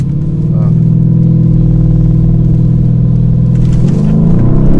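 McLaren 720S sports car with an exhaust button: a loud, steady low engine rumble and exhaust drone that holds throughout, then shifts pitch briefly near the end as revs change.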